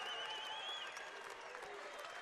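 A basketball arena crowd applauds after a tournament win, steady faint clapping and cheering with a whistle-like tone and a commentator talking over it.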